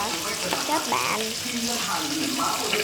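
Fish fries in a pan with no seasoning yet, a steady loud sizzle and crackle with occasional stirring scrapes throughout.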